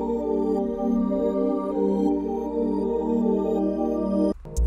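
Reversed bell sample from a remake of a song made in FL Studio: sustained, shimmering bell tones that swell steadily in loudness and then cut off abruptly at the end, heard alone.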